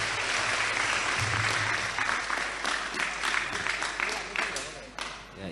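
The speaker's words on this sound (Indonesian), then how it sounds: "Tepuk tangan untuk SMK 2 Pacitan se." Students and guests at SMK 2 Pacitan school give a round of applause, loud and continuous, with crowd noise mixed in for about five seconds before it tapers off.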